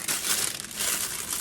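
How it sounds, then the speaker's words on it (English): A disposable plastic piping bag crinkles steadily while being filled with cake batter, a close, continuous papery rustle with no talk. "So I use disposable plastic piping bags."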